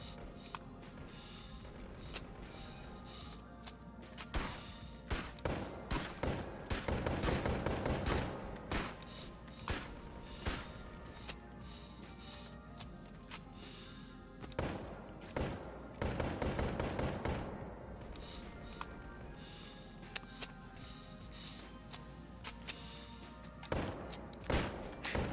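Repeated gunshots crack out at a firing range inside a VR shooting game, arriving in irregular bursts and rapid volleys with quiet gaps between them, fairly close and sharp.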